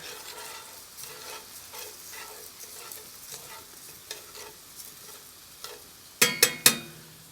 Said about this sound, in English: chuck it all in. We'll go a little bit more. There we are. Give it a good mix.